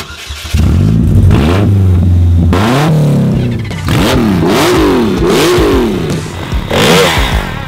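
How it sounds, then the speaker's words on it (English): A Polaris Slingshot engine revs hard during off-road testing, loud and close, with repeated rising and falling bursts of throttle, each climbing sharply then dropping back across several seconds. "There's no such thing as warming an engine up around here."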